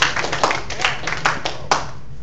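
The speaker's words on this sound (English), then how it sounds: "All this clapping, bro." Audience at a success talk clapping in a loose sparse rhythm, several distinct claps standing out over a steady room murmur.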